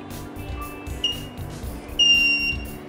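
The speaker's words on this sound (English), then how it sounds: "The LED light will flash in red accompanied by an audible buzzer sound." A smart padlock's audible buzzer sounds as a few short, high electronic beeps, one faint early and a louder, longer tone near the end, over a quiet room background.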